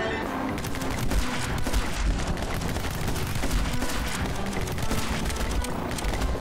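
Gunfire in the video game My Friend Pedro, rapid dense volleys of shots crackling over loud game music, steady and unbroken throughout.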